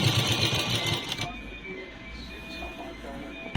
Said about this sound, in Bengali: দুটো কাপড় শুধু একসাথে জয়েন করে করে ঘুরিয়ে ঘুরিয়ে সেলাই করে নিতে হবে